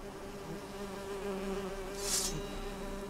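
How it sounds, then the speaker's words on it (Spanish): Wasps from The Witcher 3 video game drone in a steady, continuous buzz with a faint hum underneath, swelling briefly louder toward the end, with no talking. "vamos a pelear contra avispas"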